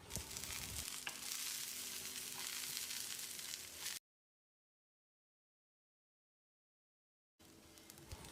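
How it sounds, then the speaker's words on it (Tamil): Steady, bright sizzling of grated coconut frying in a pan, loud and close, cutting out for a few seconds before resuming. "4 டேபிள் ஸ்பூன் துருவின தேங்காயை சேர்த்து ஈரப்பதம் போகிற அளவுக்கு ஃப்ரை பண்ணிக்கலாம்"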